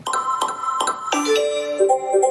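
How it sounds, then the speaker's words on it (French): Phone notification sounds played from a file: a series of bright pings and chimes, some repeated in a quick rhythm, then sustained tonal beeps, clear and close with no talk. "là, c'est un fichier avec les notifications."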